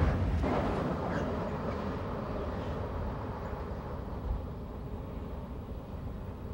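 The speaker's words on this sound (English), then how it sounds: "The train crests the grade and begins the curving path downgrade." An American steam train cresting a grade and starting down a curving descent, a faint, low rumbling roll heard from a distance that fades slightly as it goes, with a brief soft bump midway.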